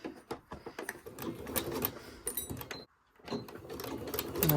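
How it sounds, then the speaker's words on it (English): Sewing machine running a 1/4 inch stitch through fabric scraps for a heart mug rug, rapid mechanical needle clatter in bursts with a short pause midway, close and alone. "I'm going to flip this over and I'm going to start sewing, and I'm going to use 1/4 inch stitch"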